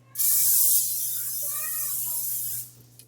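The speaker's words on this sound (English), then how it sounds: "I am going to spray it just to be cautious because I don't want to have extra work cleaning the pan later." Cooking spray hisses steadily from a can onto a regular 9x13 baking pan, one continuous close and loud spray lasting about two and a half seconds with a low hum underneath.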